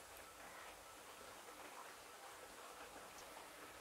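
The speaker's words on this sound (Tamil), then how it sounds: "உங்களுக்கு தெரியுதா மழை பெய்யுது, சத்தம் கேட்குதா பாருங்க, மழை நல்லா பெஞ்சிட்ருக்கு." Steady rain falls outside, producing a continuous, even hiss of drops at a moderate distance throughout, with no voices.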